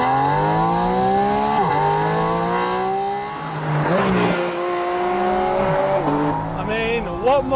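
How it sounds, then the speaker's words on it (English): The flat-six GT3 racing engine of a Porsche 718 Spyder RS revs up and down several times, a loud, close, high-pitched wail rising and falling over a faint background. "Now you may think this car sounds good like this, with its 1-to-1 GT3 racing motorsport engine"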